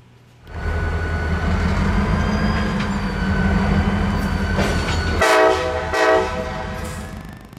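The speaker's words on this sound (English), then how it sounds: "It wouldn't take long for the hoppers to be dropped and for our power to move out of the spur track to the siding." A KCS diesel locomotive moves grain hopper cars on a spur track, its steady engine rumble loud and close throughout, with a louder metallic squeal and clank near the end.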